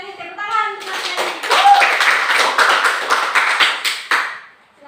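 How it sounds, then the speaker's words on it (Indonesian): Classroom clapping for a student picked to represent a group, a burst of many hands clapping together in a room, loud and fairly steady after a brief moment of speech at the start. "tepuk tangan untuk Mas Kalian"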